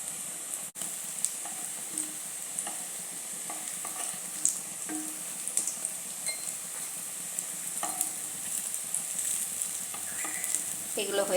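Yam koftas frying in hot oil, heard as a steady bright sizzle throughout with occasional light pops and clinks of a utensil, close and continuous without talk.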